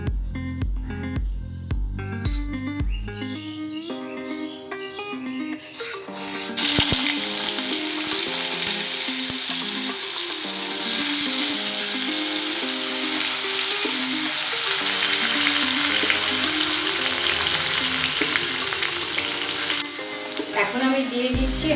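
Boiled taro hits a pan of hot tempered spices and fries with a loud, steady sizzle that holds for about fifteen seconds, after some brief stirring and clinking at the start.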